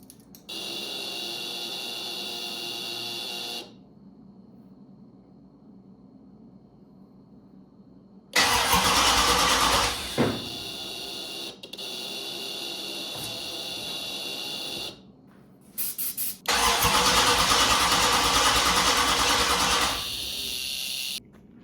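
A 1972 Dodge Charger engine cranks in loud repeated bursts of starter whirring, separated by pauses, without catching and running; no one speaks.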